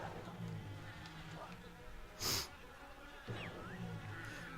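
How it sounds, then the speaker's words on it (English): Buzzing bees in the Yooka-Laylee video game, a steady insect drone humming quietly under game music, with a brief louder whoosh midway and no talk. "So we're gonna roll away from these bees"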